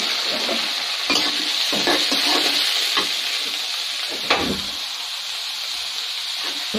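Onion, garlic and red chili sizzle steadily in hot oil, interrupted by several sharp scraping stirs of a utensil against the pan over the constant frying hiss.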